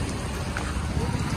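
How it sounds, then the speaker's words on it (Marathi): Rain falls steadily on surfaces outdoors near a roadside market, a dense, even patter that fills the whole short stretch with no break. "पाऊस पडायला लागला"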